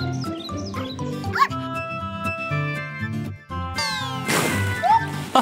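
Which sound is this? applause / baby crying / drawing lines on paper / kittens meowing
kittens meowing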